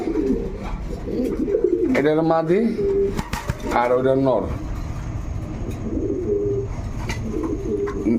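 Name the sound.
Danish pigeons cooing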